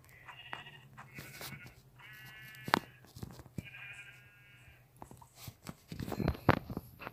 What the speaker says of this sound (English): Hey, sheep.